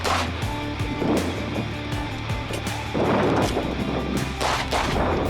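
Sharp, loud gunshots from 9mm Glock-based pistols crack out in quick succession at close range, each report echoing briefly before the next, with no talking.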